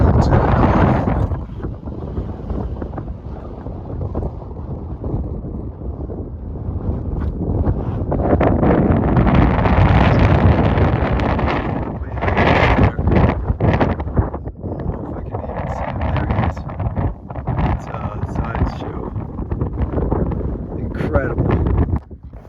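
Strong wind buffeting a microphone on a mountain ridge along the Pacific Crest Trail, loud roaring gusts rising and falling throughout, with brief rustling.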